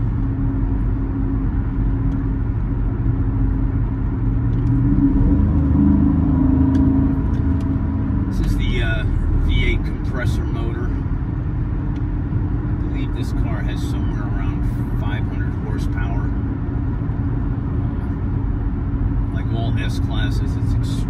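A 2004 Mercedes-Benz S55 AMG cruises along a road, its steady low engine and tyre rumble running throughout with smooth shifts, while someone talks over it.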